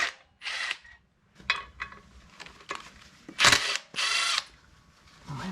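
An impact wrench loosening bolts during a Jeep TJ engine swap fires in several short, sharp rattling bursts of varying length, separated by near-silent pauses, close and fairly loud.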